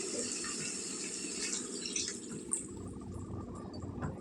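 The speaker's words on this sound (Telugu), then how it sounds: "ఇందులో నీళ్ళు వేసుకున్నామండి." Water added by the glassful to a pot of potato and drumstick curry after salting, a close continuous pouring and trickling with faint splashes, no voices.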